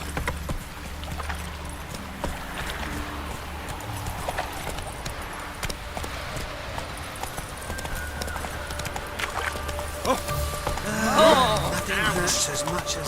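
The horse Roach gallops in The Witcher 3: Wild Hunt, a continuous rhythmic clip-clop of hooves under game music and ambience, with a few other sounds rising near the end.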